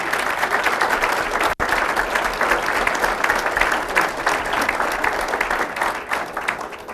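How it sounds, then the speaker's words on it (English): At a town's State of the Town address, the audience gives a round of applause for department heads and staff. Loud, sustained clapping runs throughout, with one brief dropout near the start. "let's give them a round of applause"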